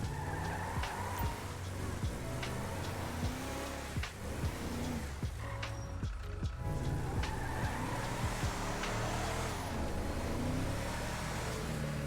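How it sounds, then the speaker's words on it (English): A Volkswagen Amarok is driven in GTA V FiveM, with a humming engine, repeated tire squeals and skids, and shifting revs over about twelve seconds of continuous driving. "I'm just gonna jump in our Amarok here, and we're gonna drive over to the cutting center"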